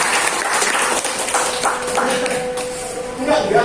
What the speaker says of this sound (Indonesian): Tepuk tangan dahsyat buat Tuhan.